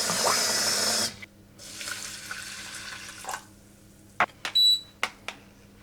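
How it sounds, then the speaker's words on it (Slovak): Water pours from a tap or jug over rolled oat flakes in a pot, a loud rushing hiss for about a second, then quieter trickling and a few sharp drips and clinks in a kitchen. "Zalejme to vodou."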